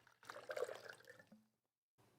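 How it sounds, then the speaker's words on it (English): Water pours from a one-liter measure in a steady gurgling stream for about a second, trails off into silence, then a faint splash returns at the end. "I'm going to pour this water to measure it."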